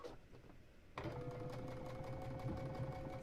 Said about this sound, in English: I am sewing the other side of the little starburst together